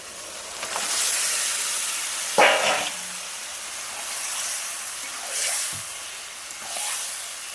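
Chicken pieces hit a hot pan of cooked-down spices and water, giving short bursts of hissing sizzle that rise and fade several times, fairly close.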